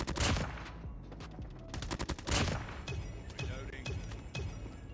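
Automatic bursts from a gold M4 rifle in Call of Duty Mobile, loud and close, broken into several short strings of rapid shots with brief gaps between them.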